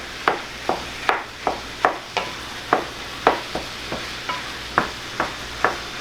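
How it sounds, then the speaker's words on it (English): Ground venison with onions and garlic in a pan, chopped and broken up by a spatula in a steady run of sharp taps and scrapes over a soft background sizzle. "cutting this up a little bit with this spatula, kind of breaking it down and let it cook here"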